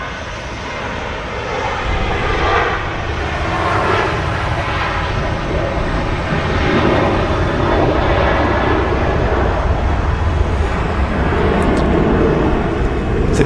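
An airliner departing Manchester Airport gives a steady, broadband engine roar. It holds at a fairly even loudness throughout and carries no talk.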